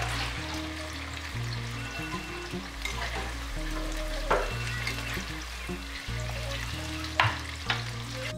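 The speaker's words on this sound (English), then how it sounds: "Firstly, frying some sliced onion." Sliced onions sizzle and crackle steadily in a hot pan, with occasional stirring scrapes and clinks throughout.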